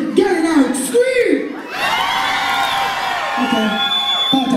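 Festival crowd at a West African music event screams and whoops loudly, a burst of mixed shouting voices that dips briefly and then surges again into sustained cheering, with a voice over the crowd near the start.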